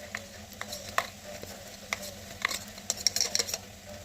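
Fasting khichdi with peanut paste and green chillies being stirred in a pan over medium gas, soft scraping strokes and light clicks of the spoon over a faint low sizzle, close and quiet.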